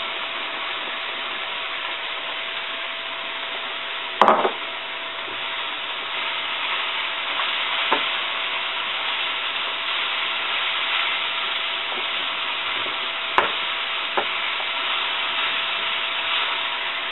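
Mushrooms sauté in a pan for chicken in mushroom sauce, giving a constant close sizzling hiss broken by a few sharp clicks and pops.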